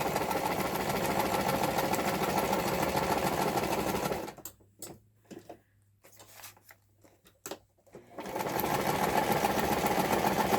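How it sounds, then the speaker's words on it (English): A sewing machine stitches steadily at a fast, even whir, stops for about four seconds of near quiet with a few small clicks, then runs again at the same speed. The sound is close and loud. "I don't know if it feels that way when you're watching someone sew, but it does go pretty quick"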